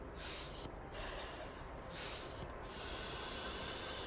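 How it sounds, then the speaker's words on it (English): An astronaut in the Astroneer video game breathes hard and rasping on low oxygen, a loud close hissing of repeated gasping breaths with short pauses, alone without talk. "Listen to my breathing."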